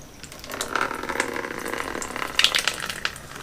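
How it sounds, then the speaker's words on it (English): Clean tap water pours from a pitcher through the cooling system of a Yamaha YZ450 dirt bike to flush out old coolant, a close trickling and splashing with gurgling bursts near the end. "Got a pitcher of clean tap water. That's what they say to use in the manual to flush the coolant out"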